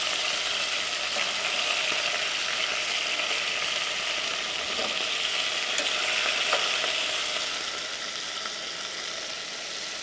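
Meat sizzles and crackles steadily in a hot pan, a dense continuous frying hiss with small pops and scraping, fairly close and loud, slightly quieter toward the end, with no talking.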